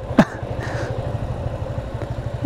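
A motorcycle engine hums steadily on a winding hill road in rain, its rhythmic low drone continuing throughout with a few faint clatters on top.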